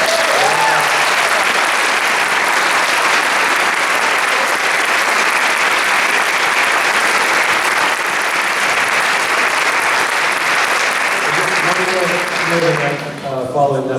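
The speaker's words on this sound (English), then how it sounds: "So if we can just give everyone a round of applause." A large crowd at an eighth grade graduation evening ceremony gives a long, loud, sustained round of applause that fades near the end as a voice begins speaking.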